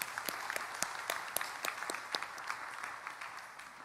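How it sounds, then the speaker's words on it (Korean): A church congregation gives a round of applause during a Sunday sermon, dense steady clapping from many hands sounding moderately distant and even throughout. "박수 한번 보냅시다."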